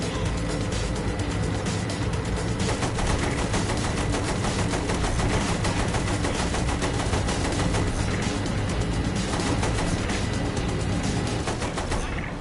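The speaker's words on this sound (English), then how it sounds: "Use the machine gun then, not the cannon." Sustained machine gun fire in a video game, dense, continuous rapid bursts filling the whole stretch at a constant loud level with no pauses.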